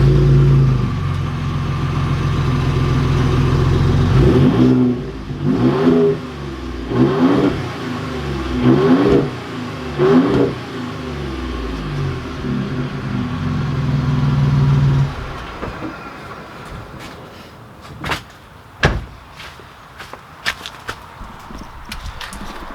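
A 2020 Ford Raptor pickup's turbocharged engine revs repeatedly in loud surges for several seconds, then settles to a rougher idle with sharp pops and crackles from the exhaust.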